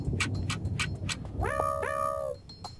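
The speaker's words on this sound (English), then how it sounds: "Meow." A cat meows in a drawn-out, rising-and-falling call near the middle, over steady background noise, after a run of rhythmic knocking or thumping sounds.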